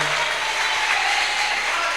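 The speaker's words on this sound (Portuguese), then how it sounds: "vamos aplaudir essa palavra" A church congregation applauds in a continuous, dense roar of many hands clapping, loud and even from start to finish.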